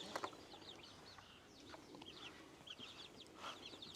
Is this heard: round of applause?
no